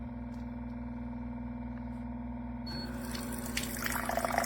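Purified water from a SimPure Y7P-BW countertop reverse osmosis filter pours steadily into a glass. A low hum comes first, then a close, continuous trickling stream takes over for the rest.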